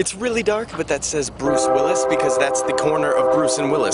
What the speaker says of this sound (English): that's a train that wakes me up every night when I fall asleep.